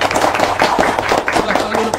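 Brief clapping from people gathered at a ministry meeting with housing developers, a short burst of several hands close by lasting about two seconds, loud and uneven.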